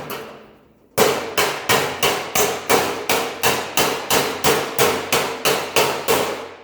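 A hammer repeatedly strikes metal to break spot-welded panels apart, about fifteen sharp, ringing blows landing at a steady, brisk pace after a second of quiet, close and loud with no talking.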